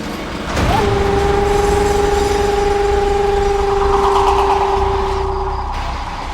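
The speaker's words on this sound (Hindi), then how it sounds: "ट्रेन आ गई है" A train sounds a long, loud two-tone horn as it arrives at a railway station in Uttar Pradesh, India. The steady horn holds for about five seconds over a rumbling platform background, then cuts off.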